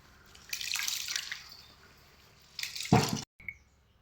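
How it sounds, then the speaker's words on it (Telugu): Urad dal, chana dal and fenugreek seeds being rinsed in water, with soft splashing and trickling in two bursts, the second ending in a sharp pour and a few faint drips. "మినపప్పు, శనగపప్పు అండ్ కొన్ని మెంతులు తీసుకొని అన్నీ కలుపుకున్న తర్వాత వాటిని బాగా వాష్ చేసుకోండి"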